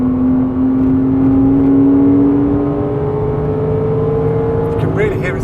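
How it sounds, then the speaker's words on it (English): A car's exhaust booms loudly on the Goodwood circuit as it holds a steady engine drone that slowly falls in pitch, with a brief burst near the end. "You can really hear his exhaust, can't you? That's unusual. You don't normally get that. That's loud."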